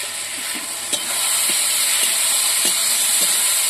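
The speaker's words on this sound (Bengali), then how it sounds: "এবার নাড়াচাড়া করে একটু কষানো হয়ে গেলে তারপরে জল ঢেলে দেবো" Tangra fish curry frying loudly in a pan with a steady sizzle, punctuated by several sharp utensil knocks as it is stirred.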